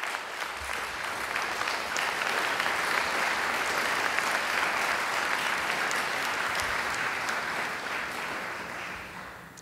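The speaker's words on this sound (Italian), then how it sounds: "Loro meritano un applauso per questo, assolutamente." An audience at an Italian-language lecture on Humanae Vitae applauds in a steady, dense wash of clapping that holds for nearly ten seconds, full and fairly loud, with no voices over it.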